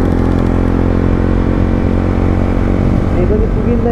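A motorcycle rides along mountain roads in Nepal, its loud engine droning steadily and close by for the whole stretch with no break.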